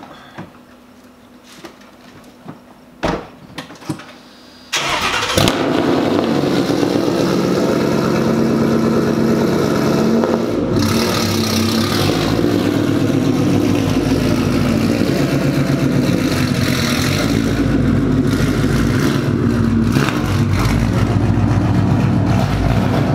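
A vehicle engine starts up at midnight after a few faint clicks and thumps, then settles into a loud, steady close-up idle with a slight rise in revs partway through.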